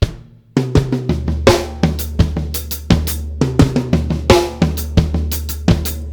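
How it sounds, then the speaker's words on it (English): A snare drum played alone in a steady, quick sticking pattern, crisp strokes mixed with accented hits and low thumps underneath, close and loud. "just play every note on the actual drum itself"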